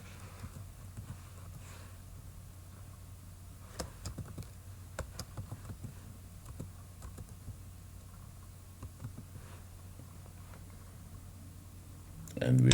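Computer keyboard typing in a telephone number, a few scattered soft key clicks in short clusters, faint and close over a steady low hum.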